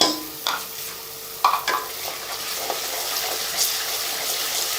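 Garlic goes into browned onions and hot oil in a karahi, where a spoon scrapes and knocks against the pan in a few sharp strokes over a softer continuous sizzle.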